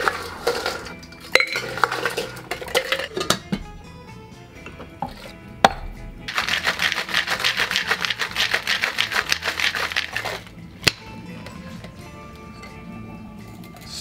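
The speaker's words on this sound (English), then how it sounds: "This is a cocktail that calls for being shaken. So we're gonna put some more ice into a mixing tin." Ice rattling and clattering inside a metal mixing tin as a vintage tiki cocktail is shaken, with bursts of sharp clinks, a sustained vigorous shaking stretch in the middle, and scattered knocks and taps, close and fairly loud.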